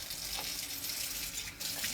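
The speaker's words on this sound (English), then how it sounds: "Hear that? That's well water." Well water runs steadily from a tap, a soft continuous splashing hiss with no voices, fairly quiet throughout.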